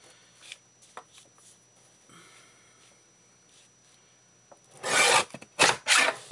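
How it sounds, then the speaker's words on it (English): A paper trimmer cuts the edges of collage paper, giving soft light rasps early on and then two louder scraping swipes near the end, close, with no talking. "Get out my trimmer."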